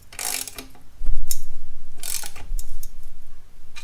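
A hand ratchet snugs up Yoshimura RS-9T exhaust bolts on a 2022 Honda Grom. Loud, close, rapid clicking comes in several back-and-forth bursts, with no talking.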